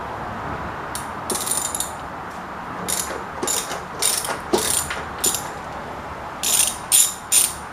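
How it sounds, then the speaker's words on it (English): A ratchet fitted with a T40 bit backs out a tank support bolt in a series of close, crisp clicking bursts, some short and some longer, with brief pauses between them. "Then we're going to take a number T40 and back out that bolt."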